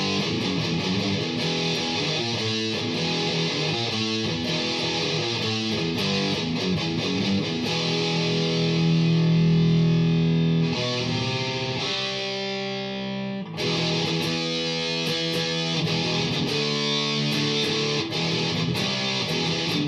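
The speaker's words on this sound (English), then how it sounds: "1/4 setting on the distortion on the scoop on high." Electric guitar through an Electro-Harmonix Pocket Metal Muff distortion pedal on the scoop setting, volume just past half, playing heavily distorted, loud sustained riffs and chords with a brief pause near the end before the playing resumes.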